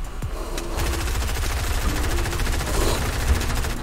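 Rapid automatic gunfire rattles continuously during a Fortnite Travis Scott in-game event, a dense fast-repeating burst of shots that stays loud and steady throughout.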